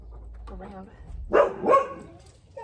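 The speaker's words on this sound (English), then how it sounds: "Pardon my dogs in the background." Dogs barking in the background of a home: two loud bark bursts rise over a steady low hum, with brief speech just before.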